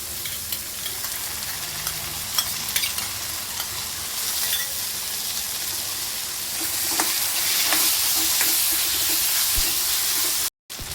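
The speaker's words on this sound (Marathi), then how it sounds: "पास्ता टाकून घेऊया, मिक्स करूया।" Pasta is tipped into a hot pan with capsicum, Schezwan chutney and tomato ketchup and stirred, giving a loud, steady sizzle and hiss with scraping stirring sounds up close.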